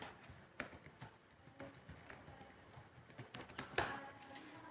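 Quick, irregular keystrokes on a computer keyboard as a sudo command is entered in a Linux terminal, a steady patter of close, light clicks with a few harder taps and no talking.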